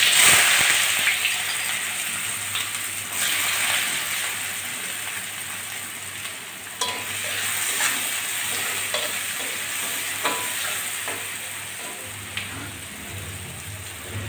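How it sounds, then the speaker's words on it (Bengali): Onions sizzle and crackle in hot oil in a wok while being stirred, with a steady loud fry and occasional scraping strokes throughout, and no talking. "পেঁয়াজগুলো আগে আমি একটু ভেজে নেব"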